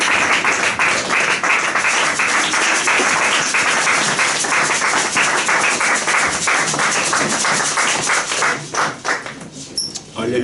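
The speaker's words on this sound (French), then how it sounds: "on applaudit très très fort pour la gloire de notre Dieu" A church congregation claps loudly and continuously in praise, a dense, rapid patter of many hands that fades and thins toward the end.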